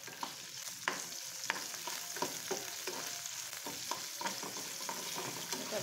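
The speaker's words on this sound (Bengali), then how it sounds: "আমি এখন পরিমাণ মতো তেল দিয়ে দিচ্ছি চুলায়, কারণ আমি ঝাল পেঁয়াজগুলো আগেই ভেজে নেব।" Chopped spicy onions and chilies fry in hot oil in a pan, giving a steady close sizzle broken by scattered crackles and the scrape of stirring, with no talking.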